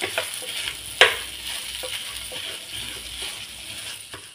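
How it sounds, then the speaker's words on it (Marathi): Fried potato is pressed with a masher in a sizzling pan, giving a close crackling fry with soft squashing and stirring sounds and one sharp clink of metal on the pan. "आता आपल्याला ह्या स्मॅशरने हा बटाटा जरा बारीक करून घ्यायचा"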